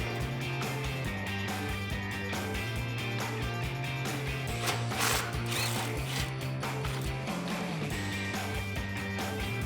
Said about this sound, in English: I'm also going to use that 12mm socket and the 3-inch extension